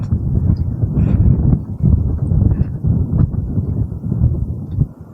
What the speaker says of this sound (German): Es ist ein bisschen windig hier.